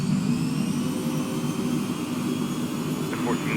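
Steady, continuous jet engine roar inside an aircraft cockpit cruising at 17,000 feet as the throttle is brought back up, a broad constant drone with low hum and faint tonal whine throughout.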